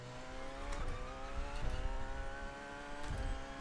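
A GT race car at Le Mans drives past with a steady engine drone, its revs rising and falling through several gear changes, heard at moderate distance with no one talking.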